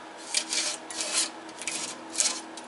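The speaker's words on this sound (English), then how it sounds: "Chipping paint off of it." Scraping and chipping of old paint off a motorcycle tag cover, a run of short rasping strokes in uneven bursts, close up and fairly quiet with no voices.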